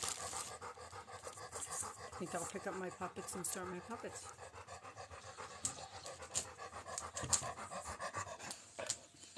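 A dog pants rhythmically and close by in an indoor room, with a person talking over it throughout.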